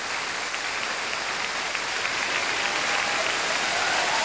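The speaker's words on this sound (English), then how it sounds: "a great hand from the crowd, as you may imagine, here in the western part of Germany" Sustained applause from an arena crowd at the 1999 Nations Cup in western Germany, greeting a figure skating pair before their short program, a steady broad wash of clapping that swells slightly toward the end.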